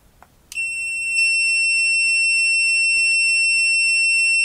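A GVDA GD166B clamp meter gives a sharp, steady high-pitched continuity beep when its probes touch a resistor, sounding alone after a faint click or two and holding on without a break.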